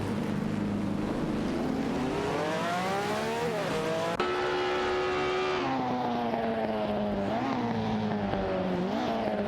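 Race cars in an AI racing video game zoom around the track, their engine whine steadily climbing and falling in pitch as they shift and corner, loud and continuous with no voices.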